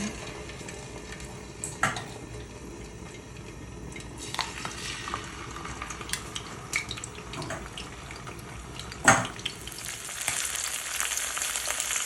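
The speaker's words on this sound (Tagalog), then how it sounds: "Lagay lang tayo ng konting mantika. And then, mainit na yung ating kawali. Nakikita naman ninyo. Ipiprito na natin." Fish fried in hot oil in a heated pan produces a low, continuous sizzle, broken by a few sharp clatters and a louder burst of spitting toward the end.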